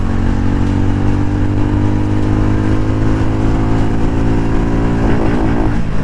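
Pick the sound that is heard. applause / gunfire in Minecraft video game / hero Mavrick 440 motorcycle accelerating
hero Mavrick 440 motorcycle accelerating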